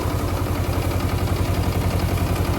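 A tractor runs a four-foot rotavator at fairly low speed, its engine throbbing in a close, loud, steady rhythmic chug with no voices.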